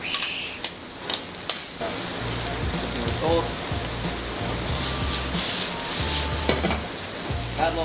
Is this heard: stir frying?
yes